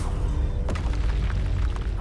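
A Confringo explosion spell goes off in Hogwarts Legacy as one deep, close boom with a rumbling low tail lasting about two seconds.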